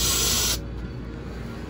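An aerosol spray can hisses loudly at close range onto a honeycomb nest, one sharp burst lasting about half a second before cutting off into quieter room noise.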